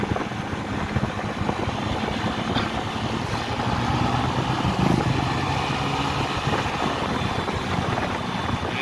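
A Honda Vario 125 CBS scooter engine revs high while riding, a loud, steady droning roar mixed with wind rush that swells slightly midway, with no voice heard.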